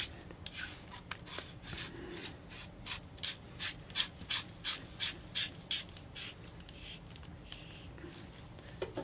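Parts of a Savi's Workshop lightsaber saberstaff are twisted together with a connector and plumber's tape, producing a quiet run of about a dozen rhythmic scraping, rasping turns close by, with no talking.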